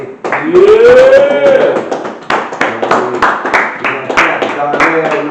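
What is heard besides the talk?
audience clapping at live event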